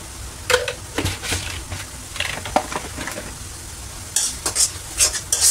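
Salted spice paste fries in a pan, with a soft hiss under irregular scraping and knocking strokes from stirring; sharper clatters bunch together near the end, and no one speaks.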